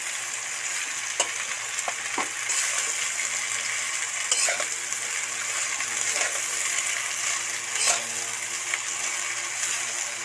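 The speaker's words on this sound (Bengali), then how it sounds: "সুন্দর করে কষতে থাকবো বন্ধুরা, সুন্দর করে মশলাগুলো এই বাঁধাকপির সাথে মেশাতে থাকবো।" Shredded cabbage fries in a pan while being stirred and mixed with spices for a meatless Bengali dish cooked without onion or garlic; a steady close sizzle runs throughout, broken by several sharp scrapes and clinks of the stirring spoon, with no talking.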